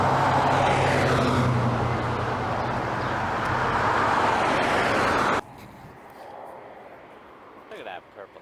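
A purple car rushes past on a road with a loud, broad whoosh of tyre and engine noise lasting several seconds, then cuts off abruptly to quieter background.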